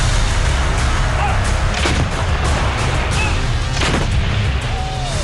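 An M777 howitzer artillery gun fires, with a couple of deep booms set in a dense, continuous rumble of blast noise throughout.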